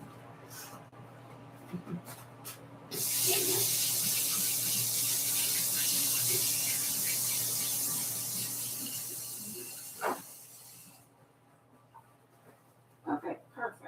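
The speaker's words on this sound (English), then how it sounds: "I got to wash my hands." Water running steadily from a tap while hands are washed, a soft close hiss lasting several seconds before it shuts off, with light kitchen clatter around it.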